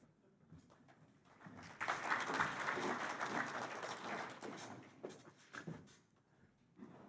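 Workshop plenary audience clapping for a speaker in a conference hall, quiet room noise at first, then the applause swells suddenly, holds for a few seconds and tapers off with scattered last claps.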